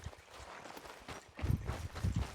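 Horse hooves clip-clopping in the video game Red Dead Redemption 2: a steady walking rhythm of soft thuds that grows louder and heavier partway through, with no talk.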